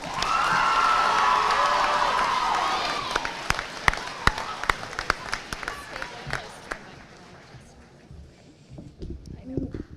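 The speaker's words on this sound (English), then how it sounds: "So please give a round of applause for Riley Dickinson." A school audience cheers and applauds a middle school student speaker at a high school transition event, loud whoops and clapping fading into scattered claps and quiet murmuring.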